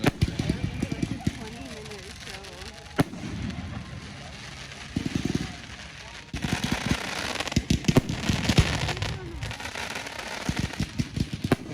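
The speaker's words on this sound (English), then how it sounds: "That's so many fireworks just in there." Fourth of July fireworks in Madison, Wisconsin burst in rapid, irregular booms and crackles, some sharp and close, while people talk over the show.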